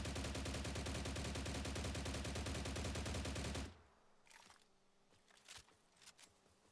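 A video game gun fires a loud, rapid, continuous burst for roughly three and a half seconds, followed by quieter scattered thuds and faint background noise.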